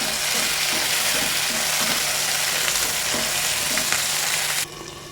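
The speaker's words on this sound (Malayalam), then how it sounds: "ഇതെല്ലാം നല്ലതുപോലെ തന്നെ വഴന്ന് വരട്ടെ." Dry fish roast masala with curry leaves, shallots and green chilli sautéing in a pan, giving a steady close sizzle and crackle with occasional stirring scrapes, dropping quieter near the end.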